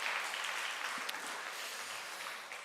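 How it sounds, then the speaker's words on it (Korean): A church congregation at a Sunday evening service gives a short burst of applause. The clapping is soft and dense and fades slightly toward the end, with no voices over it. "우리 박수 한번 들어가십니다."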